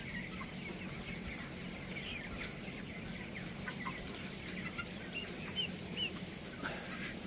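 A flock of twenty-day-old broiler chickens settled together on a cold night clucks in a steady, soft murmur, with scattered calls rising from a constant low background.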